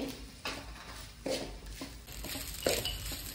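Spice powder being stirred into onion rice in a pan, a few scraping clinks of a spoon against the pan in an uneven rhythm, close and fairly quiet over a soft steady background.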